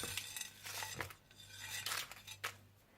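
Whole spices are stirred by hand into a biryani masala, giving a quiet series of clinks and scrapes of spoon against bowl, irregular and close, with no voices.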